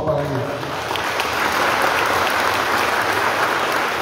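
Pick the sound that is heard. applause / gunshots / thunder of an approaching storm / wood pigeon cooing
applause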